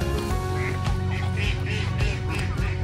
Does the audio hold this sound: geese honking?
yes